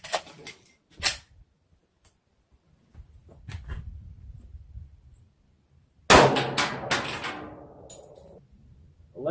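A Glock 20 Gen 4 10mm pistol with a 4.6 inch barrel fires one loud, sharp shot partway through. Ringing echo trails after it, and quieter handling clatter comes before.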